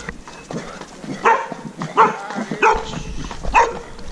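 A dog barks repeatedly while chasing a horse rider on a trail near Barcelona, with about four loud, sharp bark bursts spaced roughly evenly, close by, over outdoor background noise.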